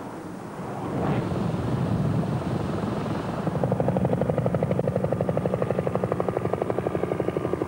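US Navy reconnaissance helicopter flying nearby, a loud rotor drone with wind buffeting that develops a distinct rapid blade-slap pulse partway through and holds it steadily to the end.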